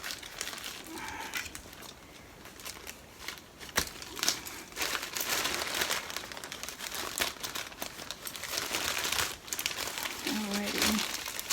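A plastic mailing bag from a plus-size clothing parcel being cut open, with crinkling and rustling plastic and sharp snips close by, under a person talking.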